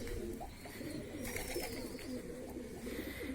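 A pigeon coos in low repeated murmuring calls, soft and close, with no other voices.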